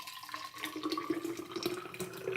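Smooth homemade tomato juice is poured into a jug, giving a steady close trickling, splashing flow that runs continuously without a break.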